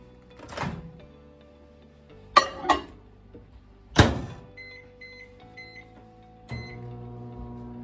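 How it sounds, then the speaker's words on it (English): Clunks and clicks of a microwave door and buttons, a few short beeps, then the steady low hum of the oven running as it heats tea. "I'm gonna make tea in the microwave."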